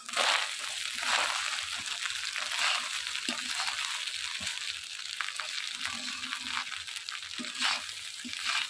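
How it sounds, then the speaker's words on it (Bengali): Cooked rice frying in a pan with black pepper powder and a little sugar for fried rice, a steady close sizzle with scraping and stirring clatter running throughout. "ভাতগুলোকে সব ভেজে নেব"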